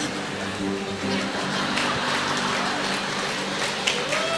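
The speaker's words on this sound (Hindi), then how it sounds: "सुनिए बारिश की आवाज कभी।" Steady rain pours outside during a Sunday church service, a constant broadband hiss filling the room, with a faint voice briefly audible beneath it.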